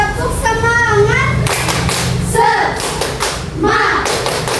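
Schoolchildren in a fifth-grade classroom perform the tepuk semangat chant, with sharp rhythmic group claps and thumps alternating with their loud shouted voices, close and energetic.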